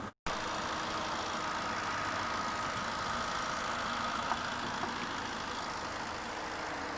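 Tata Indica Vista Quadrajet with a 75 PS Fiat-sourced diesel engine, idling as a steady, even hum and whir, close and continuous for the whole stretch after a brief cut at the start.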